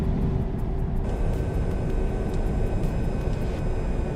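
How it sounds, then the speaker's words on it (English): A Volvo truck's retarder braking in a truck simulator game gives a loud, steady, broadband mechanical roar that holds for several seconds and brightens slightly after the first second, with no voices. "the retarder is on this button here, and you can hear it also"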